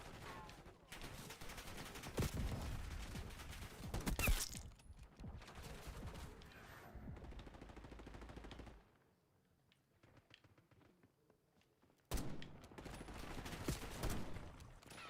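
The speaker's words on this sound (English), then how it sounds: "who's shooting at me? Who be shooting?" Gunfire in a zombie-mode shooter on the Citadelle Des Morts map, with dense bursts and rapid volleys, a quiet gap in the middle, then another loud rattling barrage.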